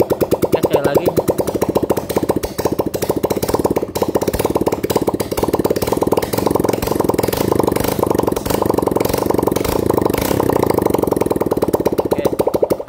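Honda Verza motorcycle engine with a worn, recently replaced piston, running without its exhaust fitted and being revved, giving a loud, steady, rapid mechanical chatter that holds close and unbroken.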